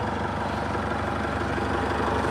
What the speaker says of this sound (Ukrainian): Це в нас трьохциліндровий з каємовським двигуном,